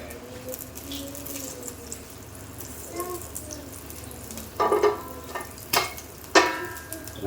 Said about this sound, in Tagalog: Tunawin lang natin guys itong butter sa kawali.